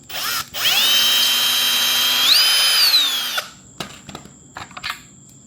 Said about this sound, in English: Now just take these screws off of your factory fog light.